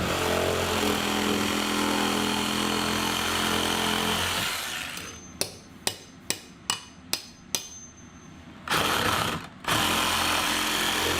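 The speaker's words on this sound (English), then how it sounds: "So we're gonna have to get out the. Roto hammer." Loud continuous rotary hammer drilling during a biohazard cleanup cuts out, followed by a series of short sharp bursts and a final longer burst of hammering.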